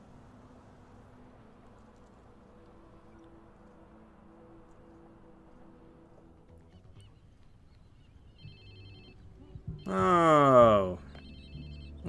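A phone rings loudly in the video game Watch Dogs 2 in a short burst near the end, after quiet background ambience and a brief spoken exclamation.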